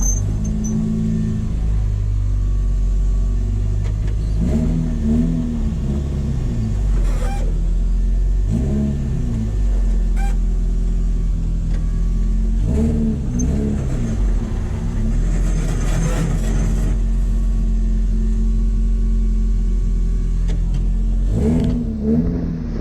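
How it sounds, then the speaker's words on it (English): A car with a bad wheel bearing drives along under a steady low road and engine drone, while a rhythmic rubbing and squealing noise from the worn bearing rises and fades in repeated bursts. "It definitely sounds like something's rubbing. I think that wheel bearing's bad."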